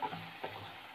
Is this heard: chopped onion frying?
yes